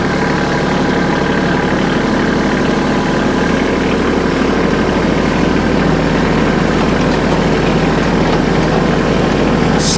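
A heavy tractor engine runs steadily at low revs, about 1,300 RPM, a continuous loud diesel rumble with a rattling vibration throughout and no voices.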